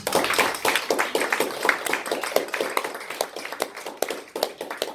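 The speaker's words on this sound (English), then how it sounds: "let's have another round of applause for Rachel" Audience applause at a live spoken word open mic night in a gallery, a dense, steady patter of many hands clapping close by for a full five seconds, with no voices over it.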